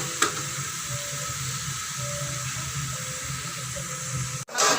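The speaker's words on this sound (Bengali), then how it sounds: "প্রায় হয়ে এসছে, আর একটু ভাজা ভাজা হলেই হয়ে যাবে আমাদের মাছের তেল পাতুরি।" Katla fish fries in oil in a pan for tel paturi, giving a steady, close hiss of sizzling that runs evenly throughout, with a brief clatter near the start and a sharp break just before the end.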